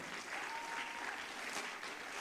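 An audience at a national investment quiz competition finals applauds, producing a sustained, dense wash of clapping that carries steadily and ends abruptly.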